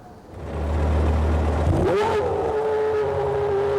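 A Formula One car with an 18,000 RPM engine revs up loudly on a circuit, a sustained high-pitched scream climbing in pitch and holding steady close by.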